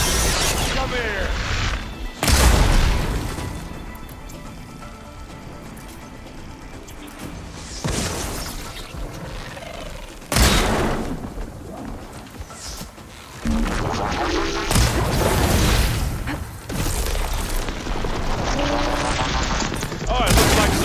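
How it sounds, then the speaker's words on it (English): Dense supporting gunfire in Horizon Forbidden West, loud sustained bursts of shots and impacts that surge in waves over a noisy battle with mechanical clatter, with voices calling out in the mix. "it looks like Zoe's giving us some supporting fire"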